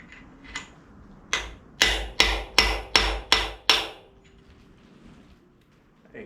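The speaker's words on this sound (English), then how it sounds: "Little hammer." A small hammer taps a bearing into place on a 1981 Corvette performance engine: a couple of light taps, then six quick, evenly spaced sharp metallic strikes, close and clear, followed by quiet.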